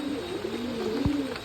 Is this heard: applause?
no